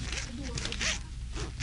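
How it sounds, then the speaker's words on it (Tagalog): A clothing zipper is pulled open in short rasping strokes, repeating over under a few seconds while people talk nearby. "buksan kong zipper ko"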